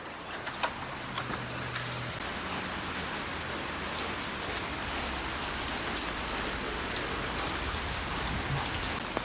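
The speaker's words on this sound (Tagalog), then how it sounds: "Grabe, napakalakas ng ulan." Heavy tropical rain pours down steadily in the Philippines, a dense, loud, unbroken hiss of drops on surfaces that continues throughout with no voices.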